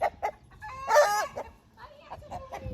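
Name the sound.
rooster crowing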